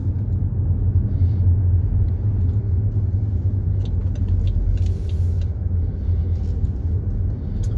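A BMW X5 30d M Sport cruises along local roads, its diesel engine giving a steady low rumble with continuous road noise from inside the cabin, and no one speaking.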